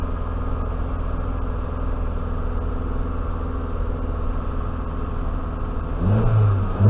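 Steady idle of an Alfa Romeo GTV 2.0 Twin Spark engine with an overheating problem, a continuous close rumble that swells into a brief rev near the end.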